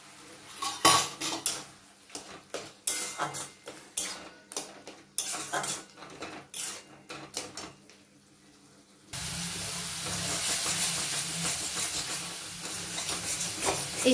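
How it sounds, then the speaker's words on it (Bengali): Spoon and utensil clatter against a wok gives way to a loud, continuous sizzle as ripe pointed gourd pulp fries with spices; no one speaks. "পাকা পটলের ভেতরের অংশটাকে কড়াইতে দিয়ে দেবো, দিয়ে মশলার সঙ্গে ফ্রাই করব ভালো করে।"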